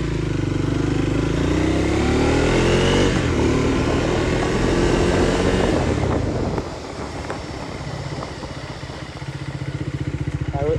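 A Triumph Speed 400 motorcycle is ridden on the road. Its engine drones steadily under heavy wind rush, then eases off into a lower, pulsing idle toward the end.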